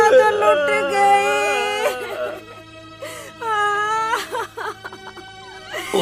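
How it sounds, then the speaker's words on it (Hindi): A woman wails and sobs loudly in a comic Hindi sketch, with drawn-out tonal cries and a break before another wailing phrase, over faint background music. "मैं तो मोहल्ले में तो रोने की आवाज आ रही है।"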